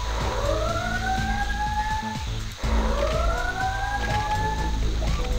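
An alarm siren in the game Crusader: No Regret sweeps upward twice in slow wails over a loud, constant mechanical drone, with no talking.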